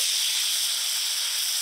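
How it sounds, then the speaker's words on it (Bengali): Vegetables hit hot oil in a kadai with onions already frying, a sudden steady bright hiss and sizzle lasting under two seconds before cutting off abruptly, close and alone. "এবার সবজি কড়াইতে দিয়ে দিব।"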